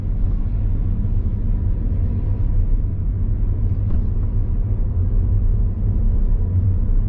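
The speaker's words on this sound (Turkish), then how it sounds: "Hem şu an DSG geçişlerini anlayacaksınız hem de tamam. motorun birazcık daha nasıl performans sergilediğini görebilirsiniz" Skoda Octavia Mild-Hybrid with a DSG gearbox accelerating on the road, a steady, loud low engine and road rumble heard from inside the cabin, with no distinct gear-shift breaks and no talk.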